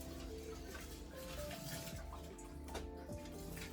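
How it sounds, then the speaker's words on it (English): Boiled hot water runs steadily over salmon and spinach being washed in a kitchen sink, a faint continuous splashing and trickling with no talk. "I'm going to be washing it with some boiled hot water"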